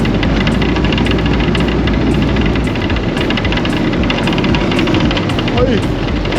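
A steady, loud engine drone with rapid mechanical pulsing runs throughout, like a motorcycle engine heard up close, without a break, on a city street in Chicago.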